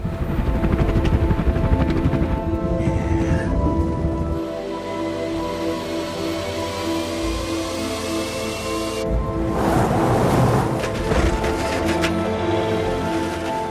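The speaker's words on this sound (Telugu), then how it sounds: "ఇలా వాళ్ళు మాట్లాడుకుంటుంటే వాళ్ళ మీద నుంచి ఒక డ్రోన్ అనేది పాస్ అవుతుంది." A drone passes overhead in a scene from the film Interstellar, a loud, steady, droning engine roar lasting about fourteen seconds. A hissing, rain-like wash runs under it and swells again toward the end.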